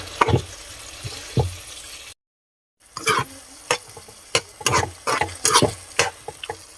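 Oysters sautéing with tomato and chili: a spoon stirs and scrapes through the pan in irregular knocks over a low sizzle, broken by a brief silent gap.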